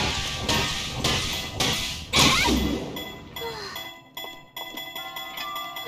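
Several heavy hammer smashes and crashes with ringing metallic echoes, followed by lighter clinks and chimes, in modded The Legend of Zelda: Breath of the Wild.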